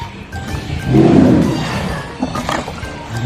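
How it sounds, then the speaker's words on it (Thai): A tiger roars at a reservoir outing in Nakhon Nayok, Thailand, a loud, deep, rumbling growl swelling for about a second and then fading into background murmurs and faint voices. "อันนี้เสือ"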